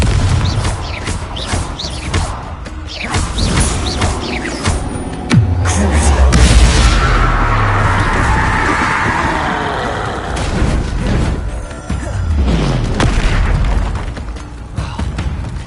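A Confringo blasting spell in Hogwarts Legacy goes off as a loud, deep boom with a rumbling low-end swell, set among continuous game combat sounds, impacts and effects.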